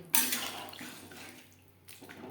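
Spice-rinsing water poured into a pan of tilapia fish curry with potatoes, a brief soft splashing pour that fades and returns with a quiet trickle.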